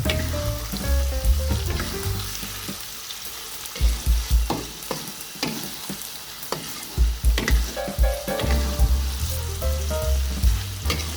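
Eggs sizzle and crackle in a hot wok with balado chili spice paste as a spatula stirs and scrapes them in repeated bursts, the frying loud and close throughout.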